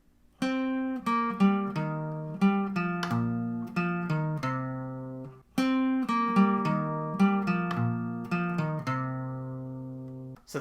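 A guitar plays a plucked interlude lead melody in two matching phrases, each note ringing clearly, with a short pause between the halves and no talking.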